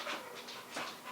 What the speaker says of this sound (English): That's a dog. Those are the dogs